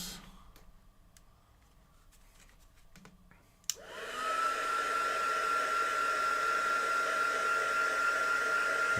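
Heat tool for gold embossing on a handmade card starts with a click and then blows a steady, loud whooshing hum that continues unbroken after a quiet start.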